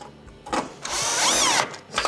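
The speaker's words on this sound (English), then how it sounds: "screw it into the back of the unit." A power screwdriver drives Phillips screws to mount a new latch motor on the back of a Whirlpool/Kenmore range oven, giving a close, loud rising motor whine for about a second between brief handling noises.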